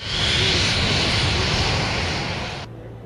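Military jet airplane roaring loudly overhead in a broad, steady wash of engine noise that holds for over two seconds before cutting off abruptly, leaving a low residual rumble.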